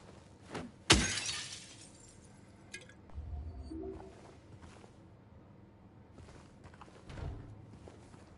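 A window shatters in Silent Hill 2 Remake, inside a typical diner: a sharp, loud single burst of breaking glass, followed by scattered falling shards and a few dull footstep-like thuds.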